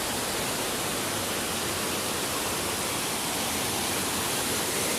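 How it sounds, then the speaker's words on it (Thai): Bunyaban waterfall in Ranong, Thailand, gives a steady, even rushing roar of falling water that fills the whole stretch without a break. "น้ำตกบุญยบานครับ ตัวน้ำตก ดูตกเยอะมาก"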